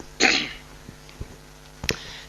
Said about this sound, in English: I'm going to clear my throat, excuse me.